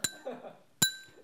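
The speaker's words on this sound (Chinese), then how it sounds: "说在头顶放一个瓷碗，然后这样敲敲打，你就听那个声音打嗝就好了" A porcelain bowl set on a person's head is tapped twice, giving two bright ringing clinks about a second apart that decay slowly, with a little faint talk between them.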